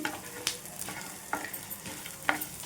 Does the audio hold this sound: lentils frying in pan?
yes